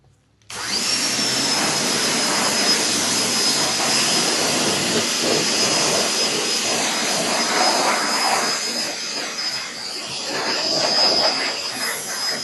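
A Greenworks electric pressure washer kicks on abruptly and runs with a loud, steady whine and rushing spray, close by and continuous, swelling slightly near the end, no talking, while a dirty truck is rinsed.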